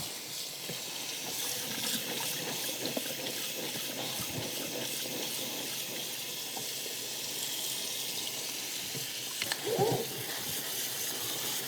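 White corn is rinsed in a kitchen sink under a steady stream of cold tap water, a continuous close rush of running water with faint splashes and clunks.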